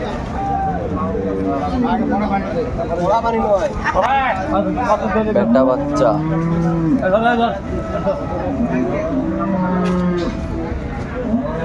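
Cattle lowing repeatedly at Aftabganj livestock market, cows with calves, loud and close with several overlapping moos over a steady background of crowd chatter.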